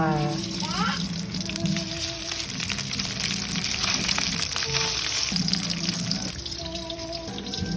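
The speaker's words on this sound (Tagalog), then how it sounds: "kaya nagmamadali na nga ako nagpiprito dito" Food sizzles and crackles steadily in a hot pan, with a running tap and occasional clinks alongside, and a voice speaking over it.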